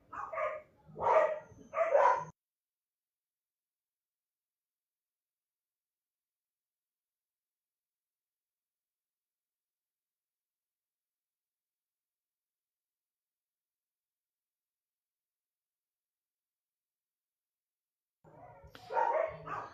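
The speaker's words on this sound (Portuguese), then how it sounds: "Deixa só o cachorro aqui parar de latir" Dogs in a kennel bark in three quick, loud bursts at the start, then fall silent for a long stretch before more barking returns near the end.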